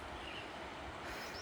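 A train rolls past on a railroad track near a property by Callahan Creek in Troy, Montana, a broad continuous rumble and roar with faint wheel squeal, sustained and fairly close, with no talking.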